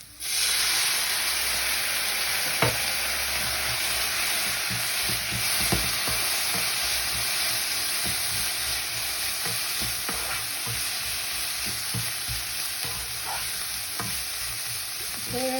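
Noodles stir-fried with soy sauce in a pan, giving a loud, steady sizzle and hiss throughout with occasional scrapes and clinks of stirring, close up and without talk.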